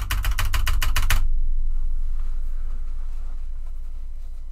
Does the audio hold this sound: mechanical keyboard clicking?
yes